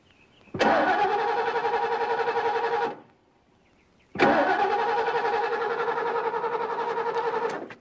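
A car engine cranking without starting because the coil wire is missing: two long, loud bursts of steady starter whirring, each lasting a few seconds, separated by a short pause.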